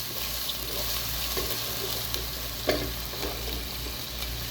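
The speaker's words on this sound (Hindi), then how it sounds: "बस प्याज को अच्छी तरीके से मैं पकाऊंगी।" Chopped onions fry with okra in a hot pan, a steady, close sizzle with a faint crackle and an occasional soft stir, no voices.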